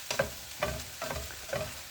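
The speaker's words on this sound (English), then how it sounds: "just giving them a little stir around until they dry off and start to thaw" Frozen vegetables being stirred around in a hot pan as they thaw: four soft, separate scraping sweeps over a faint sizzle, close but quiet, with no talk.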